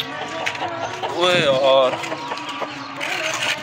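A desi hen clucks in short, rising bursts close by, half-covered by someone talking over it.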